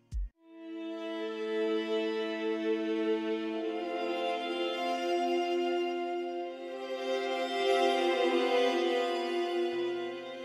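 Soft string swells from a sample library play in a Cakewalk session, sustained harmonic chords that rise and fall smoothly for about ten seconds, heard alone without any talking.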